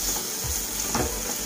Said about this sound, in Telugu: అల్లం వెల్లుల్లి పేస్ట్ పచ్చివాసన పోయేంత వరకు బాగా నూనెలో వేయించుకోవాలి